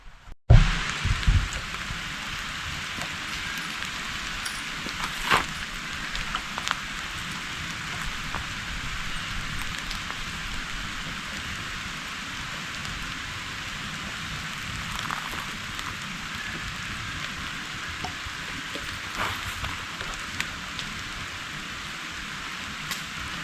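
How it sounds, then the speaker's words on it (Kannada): Steady rain falls outdoors with a continuous broadband hiss and occasional louder drop impacts, heard alone without talk at an even, moderately loud level throughout. "ಇನ್ನು ಮಳೆ ಭಯಂಕರ ಜೋರಾದರೆ ಮಾಡಲಿಕ್ಕೆ ಕಷ್ಟ ಆಗ್ಬೋದು"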